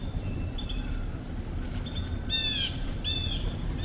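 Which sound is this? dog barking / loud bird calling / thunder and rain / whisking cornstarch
loud bird calling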